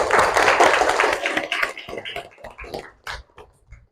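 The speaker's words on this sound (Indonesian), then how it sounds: "Oke, tepuk tangan dulu dong." A classroom group of students claps hands together, a dense burst of applause that thins into scattered, uneven claps and fades out over a few seconds.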